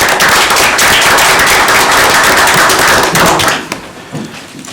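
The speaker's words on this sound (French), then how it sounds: "une bonne main d'applaudissements pour ces gens-là" Loud, dense applause from the audience at a municipal council meeting, many hands clapping steadily for about three and a half seconds before quickly tapering off into a few scattered claps.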